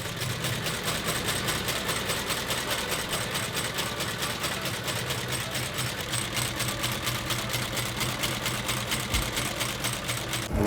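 An electric motor on a shoe restoration machine runs steadily, a fast, even mechanical whir with a regular rapid ticking pulse, holding constant at moderate loudness throughout with no talking.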